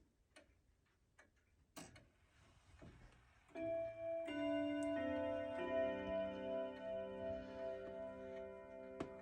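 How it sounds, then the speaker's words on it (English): A grandfather clock plays its Westminster 15-minute chime indoors. Soft ticking and a few faint knocks come first, then a sequence of clear, sustained, ringing bell tones that overlap and build up a melody, loud and close. "the Westminster chime that this clock does works perfectly, and I'm about to let you guys hear it"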